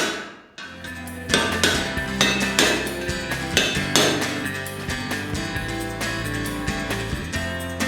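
Repeated sharp metallic strikes of a hammer on a chisel ring out in a steady rhythm, close and loud, each blow leaving a bright resonant ring.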